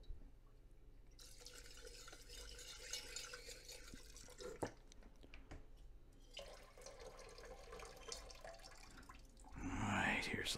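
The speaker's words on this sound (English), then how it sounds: "Rinse all the tap water off of here." Tap water rinsing gold filings in a jewelry manufacturing workshop, with intermittent running and splashing water, drips and handling clatter, and a louder burst of flow at the end.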